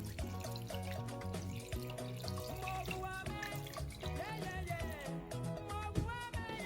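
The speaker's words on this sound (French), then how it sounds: "L'eau, je le rajoute juste à hauteur des légumes et du poisson." Water poured into a cooking pot of vegetables and fish, with red palm oil and salt, for an attiéké sauce; a steady trickle and splash runs throughout over a continuous background of music.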